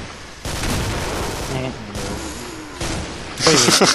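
Grenade fire in the Killing Floor video game: loud bursts of explosive, gunfire-like blasts, with the heaviest volley near the end, over constant game noise and a voice.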